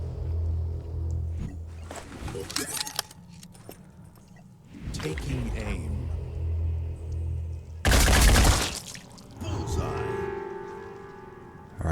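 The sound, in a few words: gunfire in Phoenix Point video game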